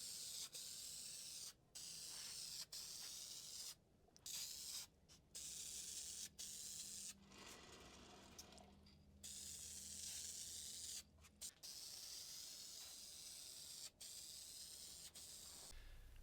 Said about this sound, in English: The finish I'm going to put on is this polyurethane Minwax spray-on